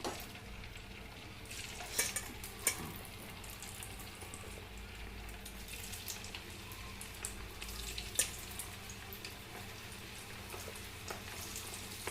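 Marinated cauliflower pieces fry in hot oil for a chilli dish, giving a soft, steady crackling sizzle with a few sharper pops, fairly quiet and with no talking.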